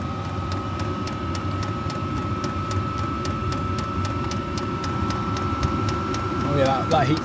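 Air being drawn into the intake of a portable 12 volt diesel heater fitted in a caravan, a steady whirring hum with rhythmic ticking pulses, close and continuous, with a voice speaking over it near the end.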